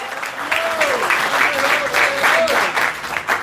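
A church congregation applauds loudly and steadily during a Spanish-language evangelist's service, a dense wash of clapping with a voice speaking over it.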